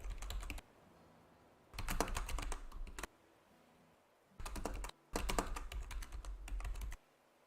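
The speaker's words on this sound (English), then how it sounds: "I'm gonna type up the poll now." Computer keyboard typing in four quick bursts of rapid, close clicking, separated by short pauses of near silence.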